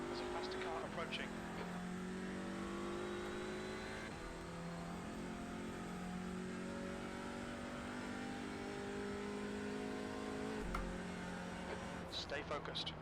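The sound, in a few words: race car approaching in the video game iRacing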